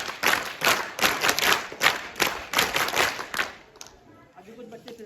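Children clap together in a rhythmic burst at an outdoor Uttarakhand folk culture day celebration, loud and steady for several seconds before fading into background chatter.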